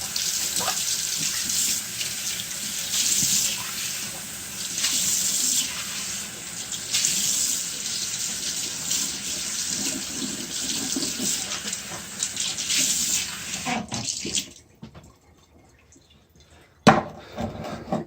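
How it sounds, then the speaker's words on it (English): Tap water runs continuously into a Minox film developing tank as it is rinsed out, a steady splashing hiss that cuts off near the end, followed by a brief knock and quiet. "So let's get this rinsed out."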